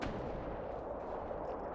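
Soviet cannons and guns from a World War II real-time strategy game roar in a dense, continuous barrage of booming blasts, faint and distant in the mix, with no talking.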